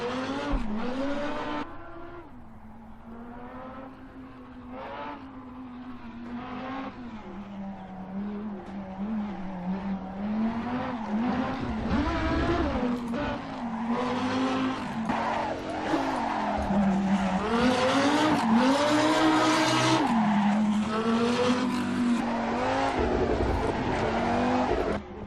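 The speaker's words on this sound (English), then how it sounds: "on lap 2, towards the end of it, there was some epic Lambo drifting" A Lamborghini drifts through corners in the racing game Assetto Corsa, its tyres squealing in long wavering screeches over a steady, revving engine drone that builds louder toward the end.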